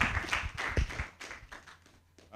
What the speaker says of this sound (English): we give him a round of applause once more